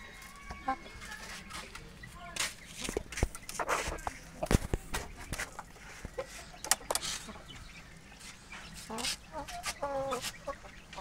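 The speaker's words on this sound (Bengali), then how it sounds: "এটা আমাদের হোম ব্রিড মুরগি" Home-bred Aseel chickens clucking in a backyard breeding setup, with intermittent hen clucks and rooster sounds at moderate distance, alongside footsteps and some shuffling.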